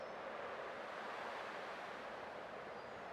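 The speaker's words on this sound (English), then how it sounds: "I can still clearly hear the sound of the waves." Ocean waves wash in the video game Honkai: Star Rail, a faint, even surf hiss that runs unbroken and alone for about three seconds.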